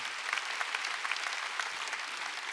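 A church congregation claps together during a Sunday worship service, giving a dense, even patter of many hands at moderate, slightly distant loudness.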